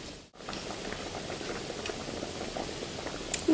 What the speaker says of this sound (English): you can see the tomatoes are nicely sauteing with the garlic